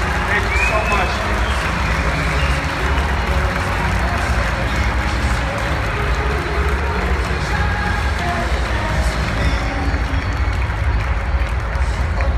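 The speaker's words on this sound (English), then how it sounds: "Big round of applause for them." A convention audience keeps applauding at length, sustained dense clapping that stays loud and steady from start to finish.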